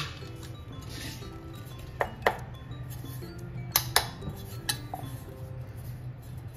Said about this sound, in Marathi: आता आपण मिक्स करून घेऊया.